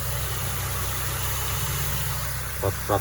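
A Peugeot Partner engine idles smoothly and steadily at close range, a low even hum with faint rhythmic pulsing, and a couple of short voice sounds break in near the end.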